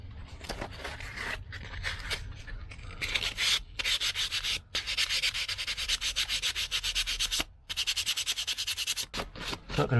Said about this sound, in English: just thought a light pass with the sandpaper